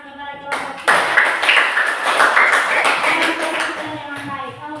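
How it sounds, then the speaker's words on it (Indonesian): A classroom group gives a round of applause for a presenting team, brief scattered clapping that starts sharply and rolls on for a few seconds before thinning out. "Kita berikan tepuk tangan kepada kelompok 3"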